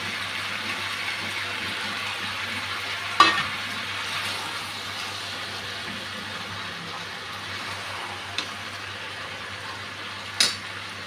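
Prawns dropped into a pan of sautéed mixed vegetables sizzle softly and steadily, with a few light clinks of a utensil against the pan over a quiet kitchen background.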